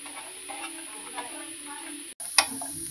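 Dry coconut roasts in a pan for a spicy mutton curry masala, giving a soft steady sizzle under a constant hiss, with light scraping stirs and a sharp clink near the end.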